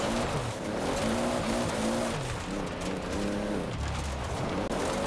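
A loud Toyota Celica ST-185 rally car engine in Forza Horizon 4 revs and shifts continuously while tires skid and squeal, the roaring motor dominating throughout without any talking.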